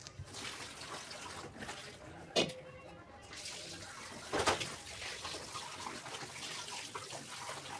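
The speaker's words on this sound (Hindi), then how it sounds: "सब्जी को यहाँ पे मैं धो रही थी, क्योंकि आलू में होती है बहुत ज़्यादा मिट्टी" Potatoes washed by hand under running water in a home kitchen, with a soft continuous splash and trickle and a couple of louder sloshes from handling, fairly faint and close.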